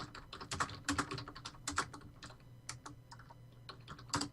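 Quick, close clicking of computer keys in irregular bursts, a light rattling patter of keystrokes with a soft background hum, during a tabletop game session.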